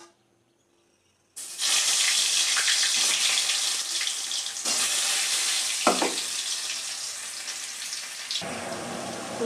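After a moment of quiet, potatoes hit hot oil in a pan and break into a loud, steady sizzle that crackles on, with a brief clatter midway, in a home kitchen.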